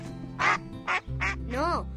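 A human voice imitates a duck, giving three or four short nasal quacks in quick succession, close and fairly loud, with a longer wavering quack at the end.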